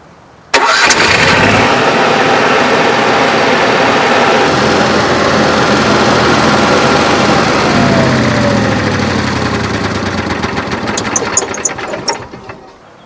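An Onan QAP 5500 EVAP generator cranks and catches abruptly, then runs loud and steady at a constant engine drone, up close, before cutting off near the end.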